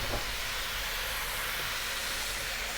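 Turmeric, chili, coriander and cumin powders fry with garlic and ginger in hot oil over high heat, giving a steady, even hiss that holds unchanged throughout, close by and with no voices.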